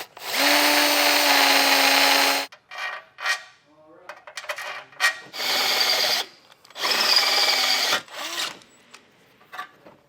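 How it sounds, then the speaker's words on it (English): A power drill with a 3/8 bit whines loudly in several bursts, drilling holes through metal for a base plate on a 2019 Chevrolet Traverse, with pauses between, along with clinks and scraping of metal pieces. "The 3/8 drill bit, we'll just go ahead and get these drilled out."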